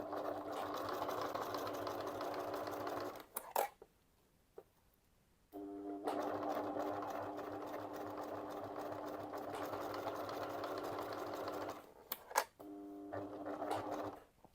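Sewing machine stitching fabric for a small coin purse, running in long steady mechanical whirs, with a short pause near the middle and a second brief stop with clicks, close and clear.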